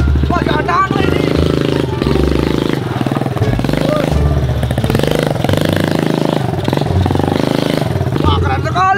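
A motorcycle engine runs and revs loudly in a rough, rising and falling pattern, while a person talks almost continuously over it.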